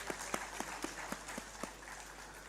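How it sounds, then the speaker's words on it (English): Applause at a probiotic symposium, with scattered claps in a quick uneven rhythm, faint and distant over a steady room hum. "please give a big round of applause for Rajiv."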